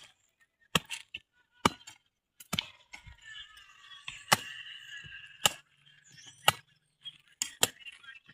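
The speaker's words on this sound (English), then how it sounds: "some of them are using the pangals to cut the roots" Pangas chop through tree roots while a fence line is cleared and a trench dug outdoors, sharp, separate thwacks arriving about once a second, spaced irregularly, with faint scraping and rustling between strikes.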